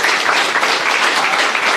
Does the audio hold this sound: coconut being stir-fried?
no